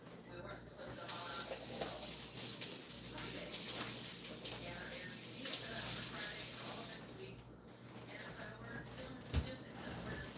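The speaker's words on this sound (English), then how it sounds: "Wash my hands." Water runs steadily from a kitchen sink tap while hands are washed, a continuous hiss with small splashes and clinks, fairly faint, stopping briefly near the end.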